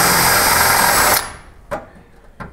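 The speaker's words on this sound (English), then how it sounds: "Now, when I'm drilling out the rivets, I don't want to make a big mess." Close up, a power drill bores out a grille rivet on a 1969-72 Chevy truck with a loud, steady whine that cuts off after about a second, followed by a couple of light metallic clicks.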